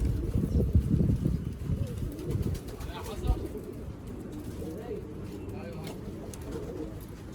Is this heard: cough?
no